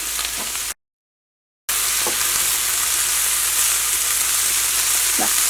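Coriander leaves frying in a pan for a Kerala onion-chili chutney give a steady, gentle sizzle, with faint stirring clicks and a brief silent break near the start.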